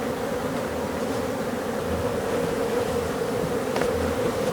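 Swarm of honey bees in Botswana buzzing all around, a thick, unbroken drone that holds steady and close throughout.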